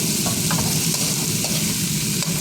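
Cabbage fries in a pan with a loud, dense sizzle. Quick scraping stirs come through repeatedly, all close up and with no voices.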